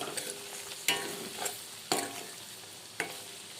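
Egg frying in oil with salt and chili sizzles steadily in a pan, broken by several sharp scraping stir strokes spaced about a second apart, close and alone without speech.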